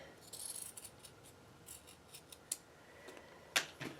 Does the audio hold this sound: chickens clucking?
no